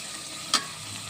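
Minced mutton stirred into onions softened in hot oil, a steady sizzle with one short sharp scrape of the spoon midway, close and alone.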